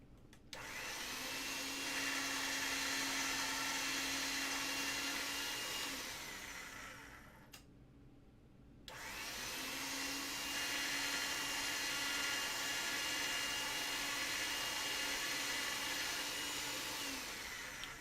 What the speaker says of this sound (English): now I'm going to go through the machine with this, first on a thick setting and then on a thinner setting.